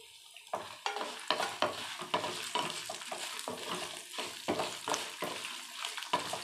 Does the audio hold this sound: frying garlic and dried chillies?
yes